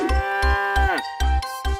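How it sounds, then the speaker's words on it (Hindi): A cartoon buffalo gives a loud, close lowing moo over a repeating rhythmic beat of low thumps, its tone sliding down about midway through the short clip. "हम काली पहाड़ी नहीं, भैंस होतवानी, नाम है भैंस मोटवानी।"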